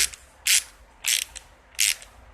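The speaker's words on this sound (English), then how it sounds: "You notice I'm just snugging my bolts down here" A hand ratchet snugs down carburetor bolts on a Murray 11A-A1BF758 lawn mower, giving three quick, crisp bursts of clicking evenly spaced, close and clear over faint background.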